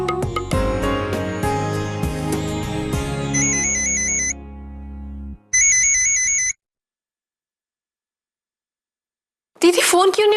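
A phone ringtone plays loudly over music, then repeats as two bursts of bright electronic tones separated by silence, followed by a short burst of music.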